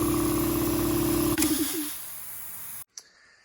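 A workshop air compressor runs loud and close with a steady mechanical drone, then winds down and cuts out, followed by a brief quiet and a small click.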